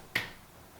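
A single sharp finger snap rings out alone, used as an announcement cue, with a quick attack and a short fading tail.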